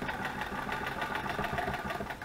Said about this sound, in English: Sewing machine action.